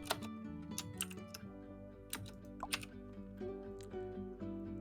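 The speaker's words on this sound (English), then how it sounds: "I'm typing in the chat right now." Light, rapid clicking of fingers typing on a computer keyboard, soft and close, sitting under a layer of background music with no talk over it.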